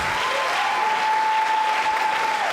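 An audience applauds a conference video crew at a closing ceremony. The clapping is dense, steady and loud throughout, with a faint tone running under it and no speech.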